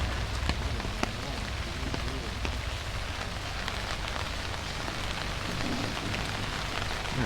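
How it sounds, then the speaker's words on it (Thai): Steady rain falls outside a bakery café in Luang Prabang, Laos, a dense even hiss of drops pattering on surfaces that continues without a break and with no voices. "ฝนฟ้าก็จะประมาณนี้ครับ"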